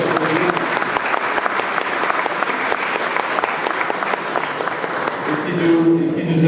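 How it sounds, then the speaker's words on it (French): An audience at a classic car rally award ceremony applauds, a dense, steady burst of clapping from a crowd lasting several seconds, with no talk over it. "Voilà, on va les applaudir."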